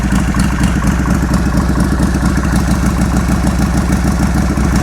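A Harley Sportster 1275 motorcycle engine runs with the choke out, idling steadily with a loud, even, close-up throb that holds its pulse throughout without revving.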